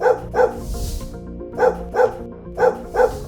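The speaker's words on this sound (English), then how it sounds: "So what are you supposed to do if your neighbour's dog won't stop barking?" A dog barks repeatedly in short bursts, mostly in pairs, close and loud, with brief quiet gaps between the barks.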